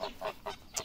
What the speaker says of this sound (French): Donc ici, mes oies de Toulouse